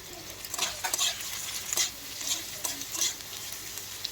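Paneer frying and being stirred in a home kitchen pan, a steady sizzle with repeated scraping stir strokes, close and moderately loud, no talking.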